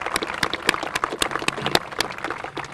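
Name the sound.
applause for Robbie and the students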